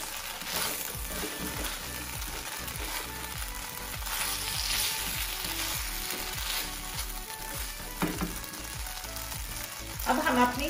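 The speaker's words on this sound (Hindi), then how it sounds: "अब हम चिकन ऐड कर देंगे इसमें, उनको अच्छी तरह मिक्स करेंगे।" Chicken pieces for chowmein sizzle and fry in a hot pan, with a steady crackle running throughout and repeated scraping stirs at a regular rhythm, close and fairly loud, with a brief louder clatter near the end.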